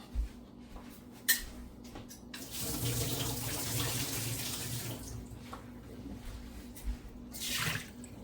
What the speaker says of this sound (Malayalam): ഞാനിത് ഈ വെള്ളമൊക്കെ കളഞ്ഞ് ഇതിലേക്ക് ഒഴിക്കാൻ പോവുകയാണ്.